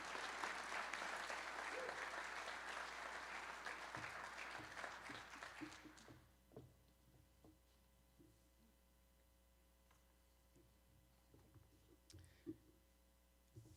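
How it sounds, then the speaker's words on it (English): Audience applause at a regional government address greets a vice chair, loud dense clapping for about six seconds that dies away, leaving scattered faint claps and room noise. "a big round of applause to Vice Chair Reva Chambliss"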